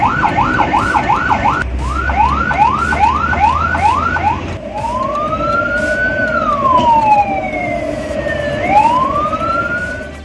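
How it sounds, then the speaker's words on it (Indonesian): An ambulance siren sounds loud and close, first as a rapid repeating yelp, then switching to a slow rising-and-falling wail over steady traffic rumble. "Perbedaan ketiga jenis ini dapat diketahui melalui suara sirine yang dibunyikan ambulans loh."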